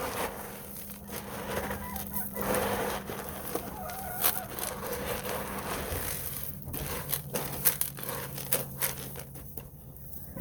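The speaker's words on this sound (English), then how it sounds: "these chickens are my pets" Pet laying-breed chickens cluck softly around a yard at feeding time, low scattered clucks and scratching under steady background noise, fairly faint and continuous.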